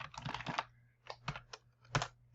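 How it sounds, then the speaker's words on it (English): Quick keystrokes on a computer keyboard while a MySQL command is typed, an opening flurry of clicks followed by a few separate taps, close and quiet with no talking. "I'm going to type show databases again."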